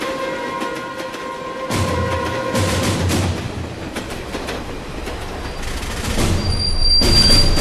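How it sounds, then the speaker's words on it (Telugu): A train pulls away on its own, a low rumble and rattle of wagons building steadily under a high wheel squeal, growing louder toward the end with no voices. "మన తర్వాత వచ్చిన ట్రైన్ కూడా వెళ్ళిపోతుంది"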